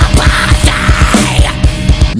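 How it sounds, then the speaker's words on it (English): A loud, continuous high-pitched vocal scream sung over heavy, driving music, with the drums pounding a steady beat underneath. "Now, with a high scream, listen to the right way."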